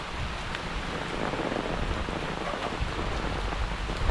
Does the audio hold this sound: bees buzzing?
no